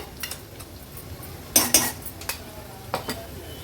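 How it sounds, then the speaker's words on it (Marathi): Ground masala paste being sautéed in oil for a spicy Nashik-style matki misal, with soft sizzling under repeated clinks and scrapes of a metal spoon stirring against the pan. "वाटण पण तेलावर मस्त असं परतून घ्यायचं आहे"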